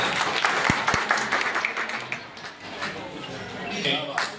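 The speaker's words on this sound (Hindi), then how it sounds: "तो जोरदार तालियां एक बार" Audience applause at a blanket distribution event in a wedding hall in Seohara, Bijnor, a steady crowd clapping that carries on beneath an announcer's voice over the sound system.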